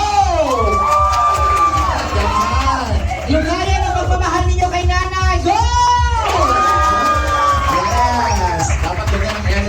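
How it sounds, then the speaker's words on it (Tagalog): A party crowd in Davao clapping and cheering loudly, with whoops and high shouted voices, some sounding like children, forming a dense, continuous roar throughout. "Dapat malakas na palakpakan at hiyawan."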